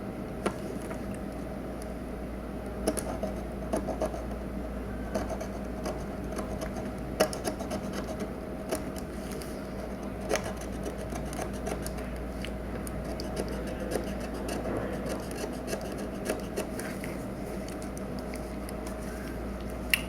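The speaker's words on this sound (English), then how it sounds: "with the 600 grit sandpaper, we're going to take those scratches right out" Scratched plastic is sanded by hand with 600 grit sandpaper, giving a steady, close rasping scrub with small irregular ticks over a constant low background hum, and no talking.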